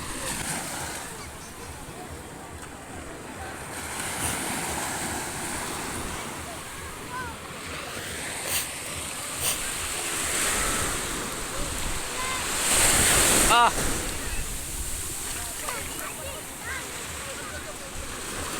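Ocean surf rolling onto a white sand beach in Pangasinan, a broad steady wash that swells louder near the middle, with wind buffeting the microphone and faint voices.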